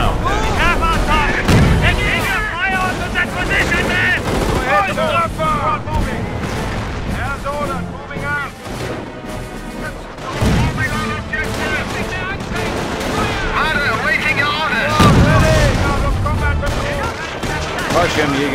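Gunfire and artillery roar through a Company of Heroes skirmish between Panzer Elite and US forces on the Langres map, with dense rattling machine-gun bursts and repeated heavy booming blasts over a continuous din, while unit voices call out over the battle.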